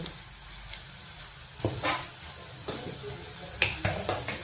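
Asafoetida hits hot oil for a tomato pickle, giving a soft, steady sizzle with sharper crackles and a few stirring clinks and scrapes that rise toward the end.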